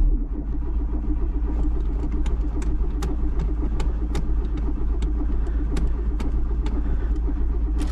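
A VW Golf 2 carburettor engine with a stuck float needle cranks steadily without catching, a loud rhythmic starter churn that goes on and on, with no voices.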